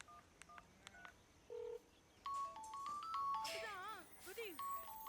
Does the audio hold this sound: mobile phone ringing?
yes